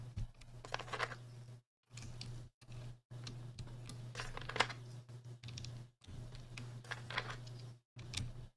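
Keycaps clicking and snapping onto a Tofu65 mechanical keyboard, a steady run of small plastic taps and clacks close by, broken by brief pauses, over a constant low electrical hum.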